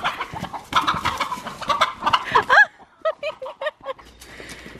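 Chickens cluck in a backyard coop, a burst of busy, overlapping clucks and squawks close by, then a few sparser calls before fading into quiet.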